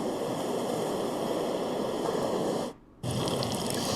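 Ocean waves from an iHome Zenergy sound therapy speaker wash in a steady, loud broadband rush that cuts out briefly near the end and then resumes.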